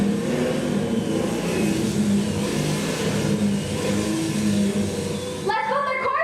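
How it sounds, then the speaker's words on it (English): A car engine runs and revs loudly and steadily, then cuts off abruptly near the end as other sounds take over; voices appear in the mix. "How come Les's car just up and started like that?"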